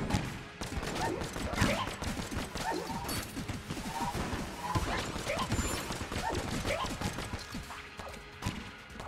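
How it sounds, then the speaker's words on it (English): Traps firing bullets in the video game Enter the Gungeon, a rapid, continuous clatter of shots and impacts layered over game music, busy and fairly loud from start to finish. "Shouldn't be running into those traps. They shoot bullets."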